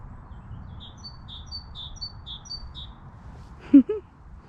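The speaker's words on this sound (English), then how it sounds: "There's a bird there, singing the lovely song of spring." A bird singing its spring song on a countryside walk: a series of soft, high, evenly spaced whistled notes heard at a distance, followed by a brief louder, lower call near the end.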